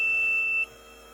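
Aircraft cockpit warning alarm sounding because the gear is up with the throttle at idle, a steady high electronic tone that holds briefly then cuts off abruptly.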